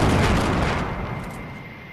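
Explosion in the video game Fortnite, a loud, close, broad rumbling blast that fills the start and slowly fades over two seconds, with no speech.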